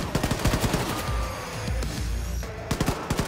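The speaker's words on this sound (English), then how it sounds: "Just SMG action the entire time." Submachine gun fire from Wolfenstein 2's Gunslinger Joe episode: rapid bursts of sharp shots, close and fairly loud, pause briefly in the middle and then return as fast staccato fire over a busy background of combat noise. No one speaks.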